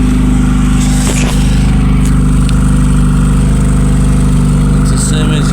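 A Volkswagen Polo Classic engine idles after a cold start with an unstable, fluctuating idle, a loud, steady, close rumble that fills the whole stretch, with a faint voice briefly audible over it.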